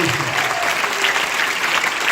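A loud, dense burst of audience applause at a company's 19th anniversary event, steady and continuous throughout, with a faint voice briefly audible at the start.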